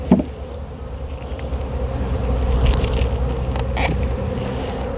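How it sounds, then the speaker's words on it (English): Honeybees fly in a dense cloud around hive boxes being changed out, a steady close buzzing hum that swells slightly midway, with a brief clink at the start and no talk. "I've got lots of bees a-flying because they're confused."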